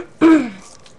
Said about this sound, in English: Sorry about the annoying cough.